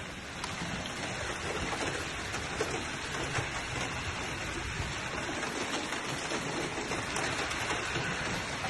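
Rain and hail fall steadily during a tornado-warning storm, a faint, even hiss of drops and pattering on surfaces with no distinct individual impacts.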